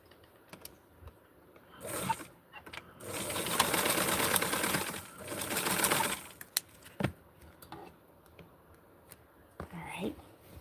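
A sewing machine stitches a doll's shirt in two bursts of rapid, steady whirring, the second one longer, with quiet handling clicks and soft whispered talk in the pauses around them.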